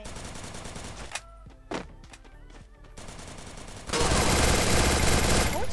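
Gunfire from the Free Fire video game: rapid automatic bursts crackle, there is a gap with a few isolated shots, and then a dense, louder volley fills the last two seconds.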